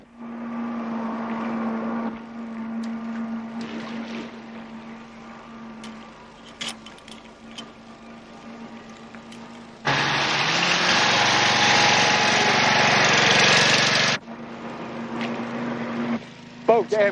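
A boat engine drones steadily with a low, constant hum under tense voices, then surges into a loud, rushing roar for several seconds before dropping back.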